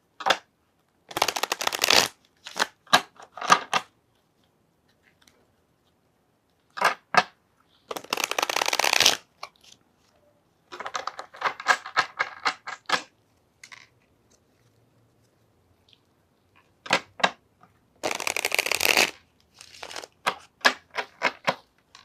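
Tarot cards shuffled in several separate bursts, crisp riffling runs alternating with near-silent pauses and a few soft single taps, close and clear with no voice.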